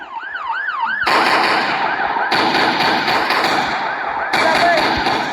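Video game gunfire in loud sustained bursts, dense and close, layered over a wailing siren, with excited voices talking throughout.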